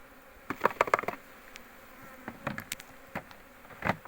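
Honeybees buzz around an opened hive during autumn preparation, with several close, brief buzzing passes clustered early and more scattered ones later over a faint background hum.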